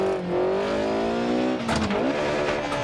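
Car engine revving in a racing sim game on PS4, a sustained climbing tone, a brief dip and a sharp rev-match blip before the pitch rises again, loud and alone.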